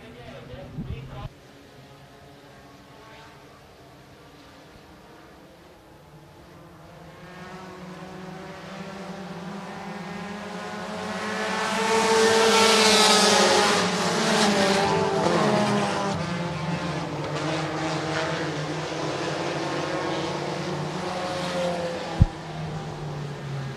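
Vintage stock cars race around Shelby County Speedway, a pack of engines droning loudly and swelling as they pass close by, with steady race commentary running over the roar.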